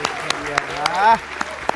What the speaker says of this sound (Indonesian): Tepuk tangan dong buat teman-teman kita ini